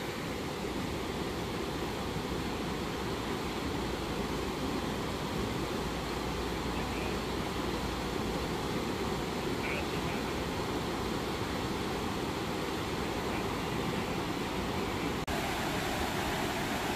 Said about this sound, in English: Waterfalls are flowing.